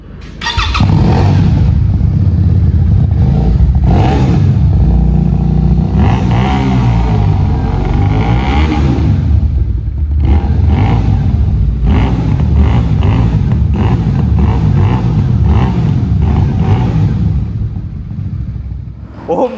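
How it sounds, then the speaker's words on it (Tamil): A TVS SRV 300 motorcycle is started and revved, its loud, close exhaust note rumbling continuously with repeated throttle blips rising and falling, no speech over it. "இப்போ நான் ஜஸ்ட் இந்த வண்டியை வந்து ஸ்டார்ட் பண்ணி காட்டுறேன் இந்த வண்டியோட சவுண்ட் எப்படி இருக்குது அப்படின்றத நீங்கள் கேளுங்கள்"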